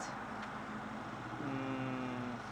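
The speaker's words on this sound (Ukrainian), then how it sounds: "генератор, електрогенератор працює. А воно зараз чутно, що воно працює" An electric generator runs at a parked RV near Butcher Park in San Jose, California, a steady low engine hum with a faint tonal whine rising midway, heard alone at a moderate distance.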